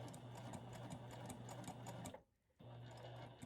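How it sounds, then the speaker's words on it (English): A home sewing machine stitches a pocket onto batik linen with a close, steady mechanical whir and rapid needle chatter, pausing briefly for about half a second before running again at the same even pace. "then just simply continue sewing"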